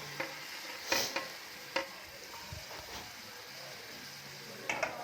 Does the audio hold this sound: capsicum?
yes